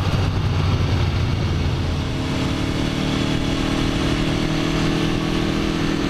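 Motorcycle engine running steadily and loud while riding on slippery, greasy roads, a continuous close drone with no talk over it.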